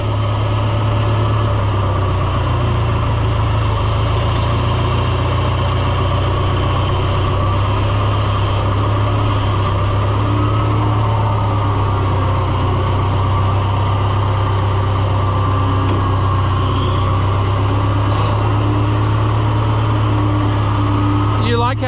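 An Oliver 1250-A tractor engine idles steadily nearby, a loud continuous low rumble with constant vibration and no letup.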